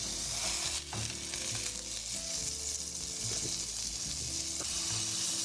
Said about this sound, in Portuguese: A gente vai esmagar o blade na chapa, no caso aqui é a frigideira